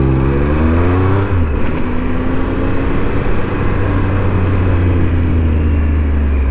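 A 2025 Triumph Speed Triple motorcycle engine revs and accelerates, its loud, smooth mid-pitched drone rising in pitch, dipping at a gear change, then climbing steadily again, close and continuous with no voices.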